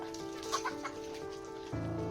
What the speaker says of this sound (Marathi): बघा किती किती कोंबड्या आहेत त्या